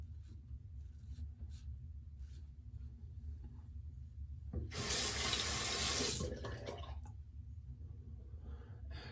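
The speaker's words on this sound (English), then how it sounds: "I've gotta let the water run through each channel." Tap water gushes through the channels of a Muhle Rocca safety razor for a loud burst of about a second and a half, set between quieter handling noises and faint background hum.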